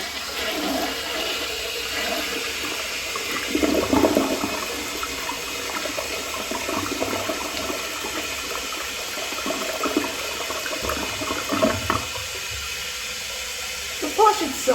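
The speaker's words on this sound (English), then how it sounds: "Now let's have a look at a flush." A second-generation Gerber Aquasaver toilet flushes with a loud, close rush of water, mechanical clicks around the handle, and a long gurgling refill that tails off near the end.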